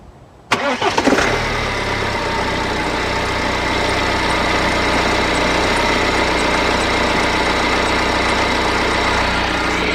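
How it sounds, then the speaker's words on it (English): A BMW E90 3 Series fires up from a complete cold start, a quick cranking burst followed by a loud, steady idle that runs close and unbroken with a faint high squeal layered over the engine hum. "this is going to be a complete cold start, and hopefully you're going to be able to hear that squeak or squeal when the engine is cold"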